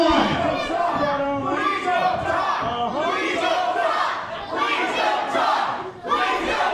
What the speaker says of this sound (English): this crowd does not want to hear Dutra talk